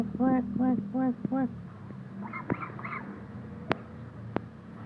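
Four rhythmic goose honking calls at close range, followed by softer squawks and a few sharp clicks.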